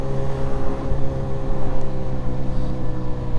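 Harley-Davidson Pan America ST motorcycle exhaust while riding, a loud steady engine drone with a fluttering low rumble and wind rush throughout.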